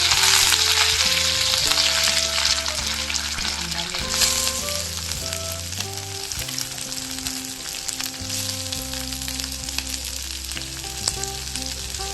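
Cumin and mustard seeds frying in a little peanut oil in a pan, a loud continuous sizzle and crackle with some stirring, close up and without voices.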